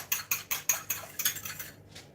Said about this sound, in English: So just going to whisk my egg, just give it a little mix in here like so